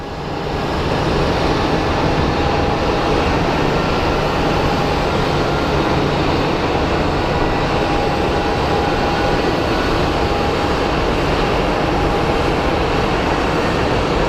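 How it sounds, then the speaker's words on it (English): A Boeing 737-800 being pushed back at Phoenix Sky Harbor airport, heard as a loud, steady jet engine roar and broadband rumble that holds constant throughout, with no voices. "A Boeing 737 is being pushed out"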